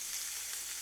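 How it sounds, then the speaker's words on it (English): Ground beef, 85-15, sizzles in ghee in a pan, a steady bright crackling hiss throughout a brief moment, close and even, with no talking. "all of that ghee and clarified butter is going to give this a nice sear, a nice sizzle"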